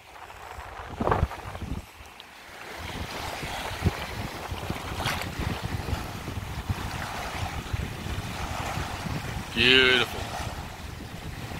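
Ocean surf rolls on a beach on a hot summer day, a continuous washing roar mixed with gusty wind buffeting the microphone, with a brief spoken word near the end.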